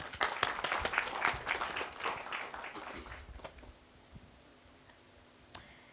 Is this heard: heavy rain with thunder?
no